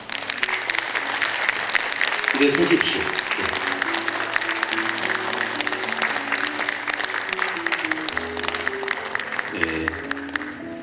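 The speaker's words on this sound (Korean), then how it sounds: "박수 맞춰 해주시기 바랍니다." Sustained audience applause fills the hall at the opening ceremony of the first Jeonnam literary festival, steady and full throughout, with a presenter's voice speaking over it near the start and end.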